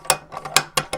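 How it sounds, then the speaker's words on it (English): A Bergara Wilderness Ridge rifle bolt cycling in its receiver: five crisp metallic clicks and clacks in a rapid, uneven rhythm, close and clear. "now let's talk about the feel of the bolt running in the receiver"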